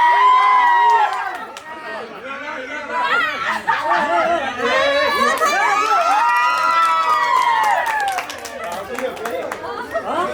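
A crowd in Nepal chatters, shouts and cheers with scattered whoops and hoots, a dense, lively din of many voices that swells and stays loud throughout.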